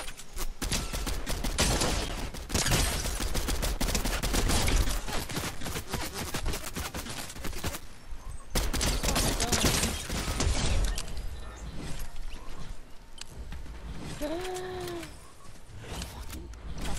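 Gunfire from the Fortnite Chapter 4 Season 3 Zero Builds trios battle royale, dense loud bursts of rapid shooting in long stretches with brief pauses, plus a short rising game sound near the end.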